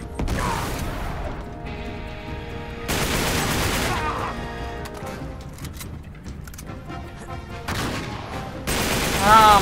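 Heavy booming shots and clattering combat in Uncharted 3: Drake's Deception, loud blasts that come in clusters, with game voices and music under and between them.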